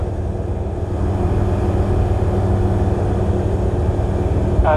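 Light aircraft cockpit noise through a UFQ A28 headset worn without glasses: an even, continuous low engine drone that holds steady for several seconds, with a brief voice at the very end.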